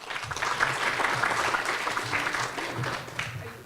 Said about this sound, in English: let's give Alicia a big round of applause